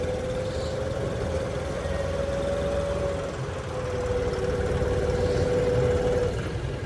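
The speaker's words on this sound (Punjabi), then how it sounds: "ਲਓ ਜੀ ਬਾਈ ਪਾਰਕਿੰਗ ਮਾ ਲੱਗ ਗਏ ਟਰੈਕਟਰ" A tractor engine idling in a parking area at Sri Fatehgarh Sahib gives a steady, continuous low hum with a faint constant drone. It runs unchanged throughout at moderate loudness.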